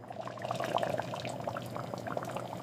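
Water bubbling and churning in a commercial canner full of pickle jars, a steady busy rolling boil with scattered pops and gurgles that goes on without a break and without voices.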